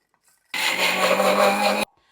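An electric grinder pulverizes fried ginger into powder for an Onam ginger curry in a home kitchen, a loud steady whirring roar that starts abruptly, runs for over a second, and cuts off cleanly.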